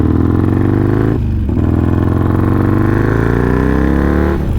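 A Harley-Davidson Sportster Iron 883 being rebuilt to 1275 roars loud and close while ridden, its engine note climbing steadily through the gears with two brief dips at the shifts.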